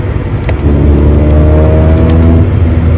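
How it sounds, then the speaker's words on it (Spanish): A car's engine revs hard as the driver accelerates from first gear during a driving lesson, a loud, steady drone with rising harmonics running through nearly the whole span, with no talk over it. "perdón por el acelerón"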